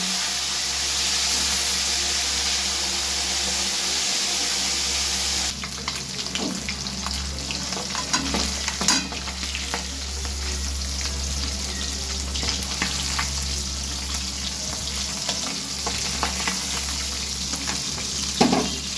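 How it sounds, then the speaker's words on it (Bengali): Fish pieces frying in hot oil in a pan for a spicy fish curry, a steady loud sizzle throughout, the hiss settling slightly partway and joined by occasional spits and crackles, with no voices. "সব মাছ একে একে ভেজে নিচ্ছি।"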